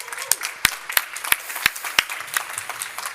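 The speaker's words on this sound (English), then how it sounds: "Please give me a word of applause." Scattered hand claps ring out from a small audience at a Nasdaq First North listing ceremony for First Nordic Metals, sharp separate claps in an uneven rhythm, fairly close.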